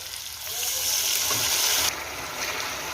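Mushroom curry hissing and sizzling in a hot pan just after water is poured in, a steady bright rush that swells and then settles slightly.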